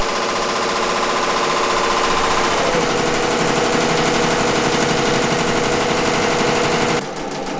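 An embroidery machine stitches out a design at speed, a dense, rapid mechanical chatter that runs steadily and loud, shifting slightly in pitch partway through and stopping abruptly near the end.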